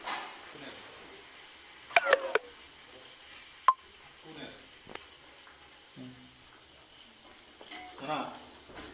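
Onions frying for a mutton curry, a soft low sizzle with a few sharp utensil clinks and scrapes of stirring, some faint voices in the background.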